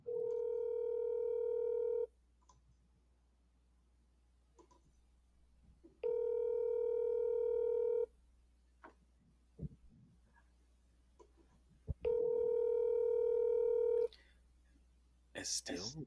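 A telephone ringback tone repeating three times, each tone about two seconds long with long silent gaps, plus faint handling noises between rings.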